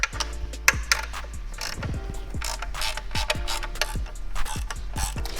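Ratchet clicking steadily while 5 mm hex bolts are backed out of the fender on a Honda Rebel 500 (CMX500) motorcycle, with repeated close, crisp ratcheting strokes and metallic taps over a faint background hum.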